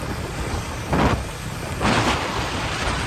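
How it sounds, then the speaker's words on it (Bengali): Heavy wind and rain buffet a bike ride on a cloudy, cold day, a steady broadband roar with two louder gusts swelling and fading, close and unbroken with no talk. "প্রচণ্ড বাতাস তার সাথে বৃষ্টি"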